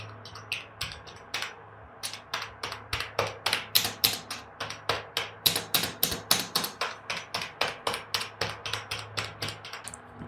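Rapid, steady clicking on a Consistent Radium wired gaming keyboard continues throughout, crisp sharp keystrokes in a fast rhythm, close and fairly loud, with no talking.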